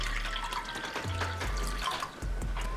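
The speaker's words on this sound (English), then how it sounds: "Next you're going to pour in your water." Water pours into a small pot set on a stovetop for turmeric tea, a close, bubbling stream with low gurgling pitch shifts as the pot fills, running for about three seconds without speech.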